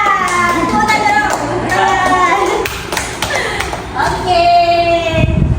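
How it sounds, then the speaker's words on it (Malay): Pupils clap their hands in a classroom, a short burst of claps amid children's chatter and a teacher's voice, fairly close and lively. "Tepuk tangan."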